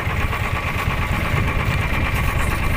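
A fishing boat engine at a fishport runs loud and close, a steady low rumble with rhythmic chugging and a mechanical whine above it.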